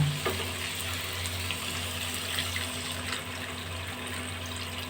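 Two cups of cold water pour into a pan of potato and soybean curry, a soft continuous gushing splash over a low steady hum, fairly quiet and without talk.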